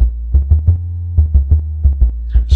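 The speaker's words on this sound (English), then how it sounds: "First, there is this nice and warm sounding analog sine wave. It can develop a lot of sonic power." A Behringer Neutron analog synthesizer plays a sequence of warm, low sine-wave notes, about eight evenly spaced pulsing tones with a steady hum between them, loud and close with no talking.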